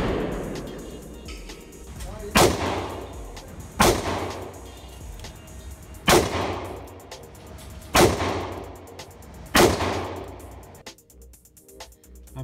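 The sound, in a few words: gunshots from a Smith & Wesson J-frame revolver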